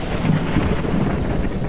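Thunderstorm with steady heavy rain and low rumbling thunder, loud and continuous across the whole stretch with no talking.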